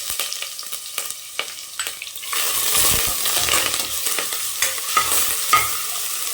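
Ginger garlic paste stirred into hot oil with curry leaves while preparing mutton fry, giving a steady close sizzle with scraping stir strokes that grows louder and denser partway through.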